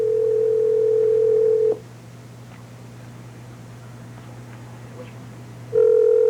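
A telephone line gives a steady dial tone, then goes quiet for several seconds with faint clicks before a ringback tone begins as the call rings through; nobody speaks.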